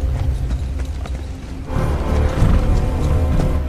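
Hooves of a ridden horse clip-clop steadily over a dense, loud background, the rhythmic thuds continuous throughout with no voices.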